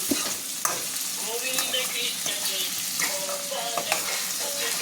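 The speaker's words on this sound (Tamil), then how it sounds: "நல்லா வதக்கு." Wheat rava (semolina) for upma sautéing in a pan, giving a steady bed of frying sizzle with repeated scrapes and stirring clatters throughout, no voices.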